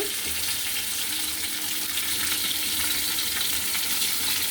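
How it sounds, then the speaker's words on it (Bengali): Katla fish fries in hot oil in a pan, giving a steady, close, even sizzle and crackle that holds without a break. No voices are heard. "এইদিকে কিন্তু আমার মাছটা ভাজা হয়ে গেছে"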